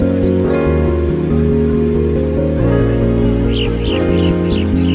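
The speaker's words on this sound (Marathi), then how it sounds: "आणि पक्ष्यांचा आवाज पण खूप भारी यायला लागलाय" Birds chirp and call near a hillside home under a dark sky after rain, bright scattered tweets that cluster toward the end over a loud, steady low hum.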